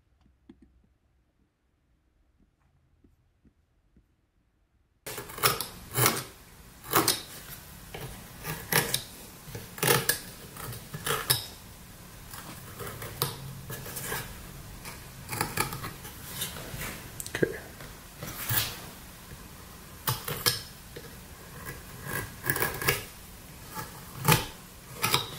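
A small 60-degree 3mm V gouge cuts into cottonwood bark while shaping the nostrils of a carved greenman face, giving close, quiet scraping and clicking strokes in an uneven rhythm after about five seconds of near silence.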